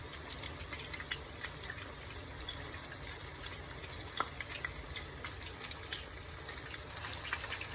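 Chicken chapli kebabs fry in a pan over a medium flame, giving a steady, close sizzle with scattered small pops and crackles throughout, no voices.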